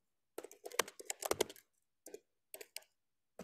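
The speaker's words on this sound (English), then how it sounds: "Let me type it in." Short bursts of clicking keystrokes on a computer keyboard, close and fairly quiet, arriving in irregular clusters with brief pauses between them as a web address is entered.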